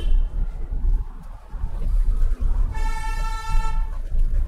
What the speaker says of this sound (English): The car behind me is continuously honking.